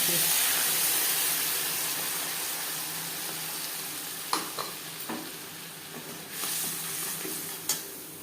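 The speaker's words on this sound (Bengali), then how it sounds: "কালো জিরে ভেজে নেওয়ার পর দিয়ে দেবো মশলা" Mustard spice paste hits the hot oil left from frying hilsa, where nigella seeds were already tempered, giving a steady broad sizzle and hiss with a few sharp utensil clinks and stirring scrapes in the second half.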